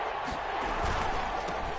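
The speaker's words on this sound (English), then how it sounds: "the crowd getting into it as we come up on a big 3rd down" A stadium crowd roars in a PS4 football video game ahead of a big third down, a loud, continuous wash of cheering and crowd noise with faint thuds mixed in.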